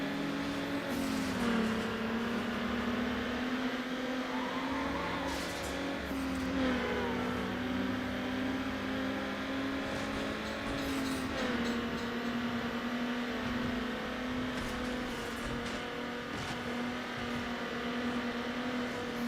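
Game car in Need For Speed Underground with oversized exhausts, holding a steady droning engine note at high revs throughout, with a few brief shifts and surges in pitch and no talking.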